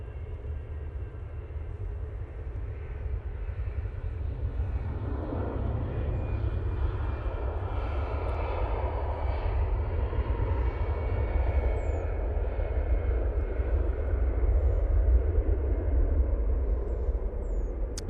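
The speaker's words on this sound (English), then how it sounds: "These jets are now departing." Jets departing Manchester Airport make a sustained, rumbling engine roar. It builds gradually and swells louder toward the end, with a broad low drone and a rising hiss. No one speaks.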